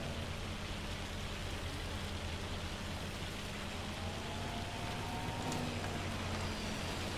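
Hail patters steadily in the Farming Simulator 25 video game, a faint, dense hiss of falling ice against surfaces that continues evenly under a low background drone, with no voices.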